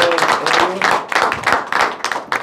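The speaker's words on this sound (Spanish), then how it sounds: "yo les voy a aplaudir" A single person clapping at a press conference with Salvadoran artists in Italy, loud close claps in an uneven rhythm that carries on for the whole stretch.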